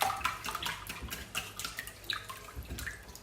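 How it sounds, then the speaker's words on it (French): Eggs and milk being whisked together for whole-wheat crêpe batter, giving a quiet run of quick, wet sloshing strokes in an even rhythm, with no talking. "Essayer de mixer les œufs et le lait."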